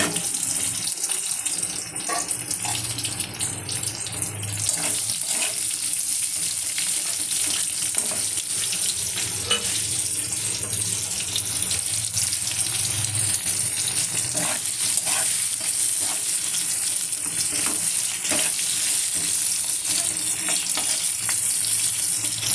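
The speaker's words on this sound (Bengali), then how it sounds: "লম্বা লম্বা করে পটলগুলো কেটে নিয়েছি, সেগুলোকে ভাজতে দিয়েছি" Pointed gourd sliced into long strips sizzling in oil in a kadai, a sustained even hiss with intermittent light taps and scrapes from stirring, no talk over it.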